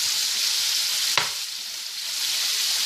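Minced meat searing in hot oil in a pan, a steady loud sizzle with a brief clink of a spoon midway, close up and with no talk.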